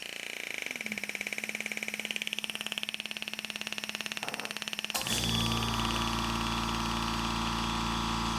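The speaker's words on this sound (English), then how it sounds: "you can hear the air compressor kick on." An air compressor powering a GRS Graversmith engraving setup starts up partway through, replacing a fast mechanical ticking with a loud, steady, close motor hum that runs to the end.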